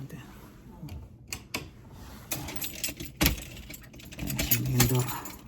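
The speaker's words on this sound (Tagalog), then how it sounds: "Kasi dadala tayo ng susi." Keys for a main door jingle and clink in scattered bursts close by, with small clatters and rustling between them amid quiet room noise.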